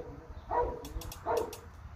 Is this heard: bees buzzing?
no